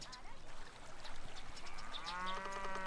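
Cows on the Foothills Farm in the video game Shin-chan: Me and the Professor low across a busy game soundscape, with harmonic moos rising near the end over other layered effects.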